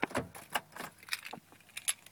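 Keys jangle in a pickup truck's ignition as it is switched off, a quiet run of short metallic jingles and clinks at close range with no talking.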